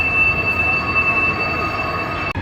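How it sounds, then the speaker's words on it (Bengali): A high-speed train departing in China rumbles steadily at close range, with a sustained high metallic whine riding over the broad rolling noise. "এই ট্রেনটা এক্ষুনি ছেড়ে দিবে সংকেত দিচ্ছে এই যে বেল বাজতেছে"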